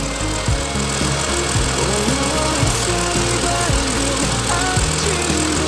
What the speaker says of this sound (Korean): 지금도 엔진이 한번 시큰통 치죠